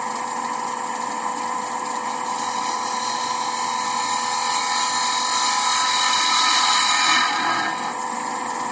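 A mahogany box lid spinning on a wood lathe, a loud continuous high whine of the turning piece and tool contact, steady throughout with a slight swell near the end.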